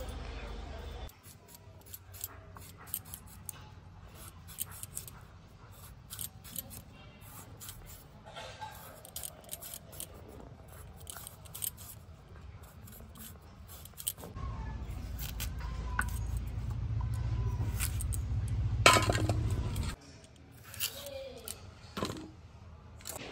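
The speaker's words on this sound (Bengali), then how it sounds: "প্রথমে আলুটা কেটে নিচ্ছি।" Potatoes are cut with a knife in a home kitchen while cooking fish, giving quiet, irregular clicks and taps over a soft background hum that grows louder for a few seconds partway through.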